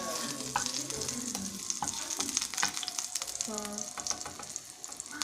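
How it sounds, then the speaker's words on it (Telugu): Ginger and garlic frying in hot oil in a pan, a busy crackling sizzle with spatula stirring and scraping throughout, and a brief spoken word near the start. "ఇందులో మనం జింజర్ గార్లిక్ వేసుకోవాలన్నమాట"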